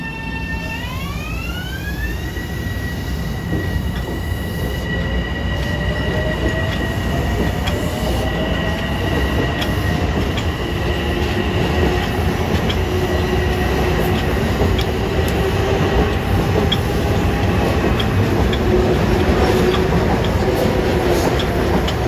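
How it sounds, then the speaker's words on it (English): A Long Island Rail Road train pulls away on the Hempstead branch, its motors whining up in rising tones over a loud, steady rumble of wheels that carries on unbroken. "watch this train begin his journey down the Hempstead branch"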